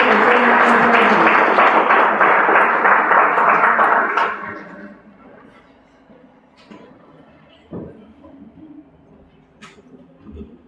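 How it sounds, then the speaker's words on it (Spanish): A lecture audience at a talk on good living, art and crafts breaks into full, close applause that fades after about four seconds, leaving near silence broken by small scattered knocks and shuffles. "Un aplauso para él"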